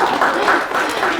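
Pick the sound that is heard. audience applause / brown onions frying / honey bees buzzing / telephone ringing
audience applause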